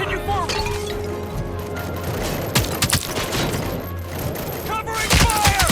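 Sustained automatic gunfire fills a firefight in the RoboCop: Rogue City video game: loud, dense volleys with heavy impacts and sharp cracks run throughout, while voices shout in the mix.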